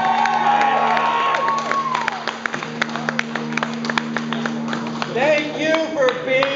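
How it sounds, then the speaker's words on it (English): A concert crowd in a gymnasium cheers and claps over lingering held musical tones, with scattered sharp claps, shouts and voices rising and thinning as the ovation winds down before a melodic line returns. "Give yourselves a round of applause."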